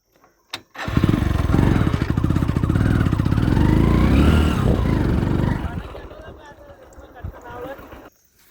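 A motorcycle engine revs hard as the bike bogs down in deep sand on the Saraswati riverbed near the Sikotar Mata temple. The loud, steady drone lasts about five seconds, then drops away into quieter rumble and faint voices.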